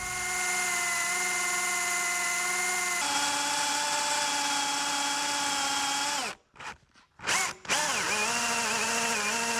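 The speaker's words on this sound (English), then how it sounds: "I pre-drilled." A power drill pre-drills holes with a loud, steady, high whine that shifts pitch partway through, then stutters through a few brief stops and restarts before spinning up again close by, with no voices.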